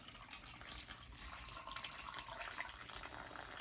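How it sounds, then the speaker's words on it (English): Water is poured over dirt and sand in a classroom erosion demonstration, making a steady, soft rushing and splashing that carries on evenly for a few seconds without any talking. "you'll pour it in there, and watch as the water moves all of the dirt and sand"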